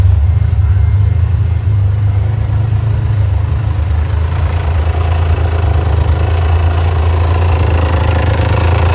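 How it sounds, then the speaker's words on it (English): A 1993 Dodge Stealth RT engine with an exhaust leak idles loudly and close, with a deep, uneven rumbling pulse and a rough, puffing exhaust note running throughout without a break. "And it sounds like it's got an exhaust leak."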